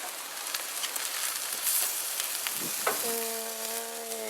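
Tri-tip sizzling on a BBQ grill as it is turned over, a steady close frying hiss with faint scraping, followed by a brief tonal ring near the end.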